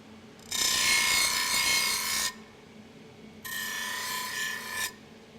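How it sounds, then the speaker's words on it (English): Metal blades are ground to remove extra pieces before welding, heard as two harsh, close bursts of roughly two seconds each, separated by a short quiet gap. "I'll grind off any of the extra pieces."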